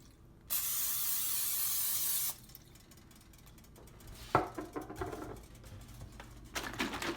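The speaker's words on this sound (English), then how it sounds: "I use cooking spray, extra virgin olive oil." Cooking spray of extra virgin olive oil hisses into a pan in one steady two-second burst, followed by soft clicks and light kitchen clatter.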